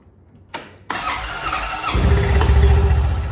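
A 2020 Honda Pioneer 700-4 side-by-side being started after an oil change: a click and starter whir, then the engine catches and settles into a loud steady idle rumble, close by with no talk.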